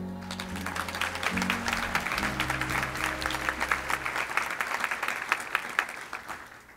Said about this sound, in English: I want to have you please applaud again for the extraordinary work of all these award recipients